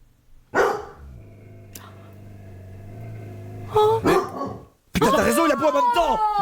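A dog barks in a played-back recording, several sharp barks and yelps arriving in bursts, mixed with a sustained tone and what sounds like voices.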